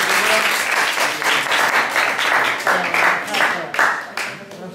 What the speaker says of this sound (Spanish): Un aplauso para las chicas.